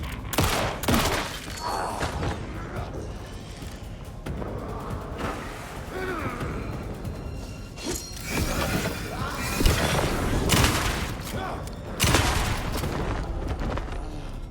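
Rapid gunfire bursts from the Alan Wake 2 horror game, with shots, booms and mechanical clatter arriving in clustered volleys over about fifteen seconds.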